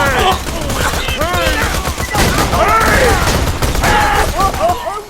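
Gunfire in the video game Borderlands 2, bursts of rapid shots and booms running continuously at close range, mixed with frantic in-game shouting and dialogue throughout.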